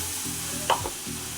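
A spice paste of chili, ginger, turmeric, cumin and coriander sautéing in a pan, a steady close sizzle with a brief scraping clatter midway and soft rhythmic stirring knocks.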